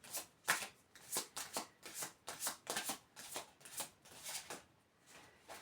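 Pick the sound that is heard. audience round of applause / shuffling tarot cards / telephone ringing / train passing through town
shuffling tarot cards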